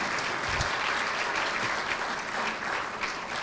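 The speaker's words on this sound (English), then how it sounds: "would y'all give them a round of applause?" Audience applause fills a chamber of commerce luncheon, a steady, dense wash of clapping from a roomful of people that holds at an even level throughout.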